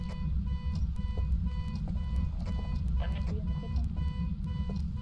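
A car alarm in the video game Phasmophobia blares as repeated electronic tones in a steady pulsing pattern, with talk and game noise mixed in underneath.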